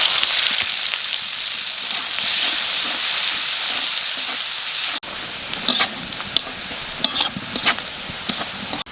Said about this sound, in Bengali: পেঁয়াজটা একটু বাজিয়ে নিছি